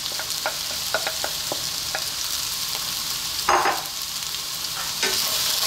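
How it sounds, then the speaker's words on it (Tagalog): Pork sausage fried rice being stirred in a hot pan, with steady sizzling and frying hiss under a series of light scraping spatula strokes and one louder scrape burst midway. "Stir lang natin sandali."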